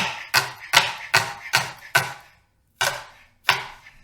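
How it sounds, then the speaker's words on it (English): Leek being chopped with a knife on a cutting board: seven crisp, close knocks, five in a quick even rhythm, then a pause and two more. "I'm just gonna give it a nice chop."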